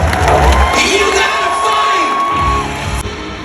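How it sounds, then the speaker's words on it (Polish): A lively party crowd at a 40th birthday celebration cheers and whoops at close range, loud shouts over a steady bed of clapping, easing off toward the end. "Wielkie brawa"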